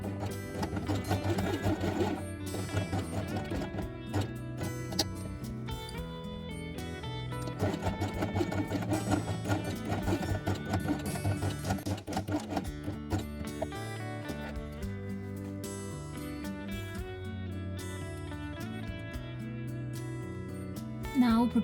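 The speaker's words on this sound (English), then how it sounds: "sew on twice with white thread on the machine" Sewing machine stitching felt with white thread, a loud continuous mechanical whirring hum with rapid needle rhythm running steadily close by, easing briefly midway before resuming.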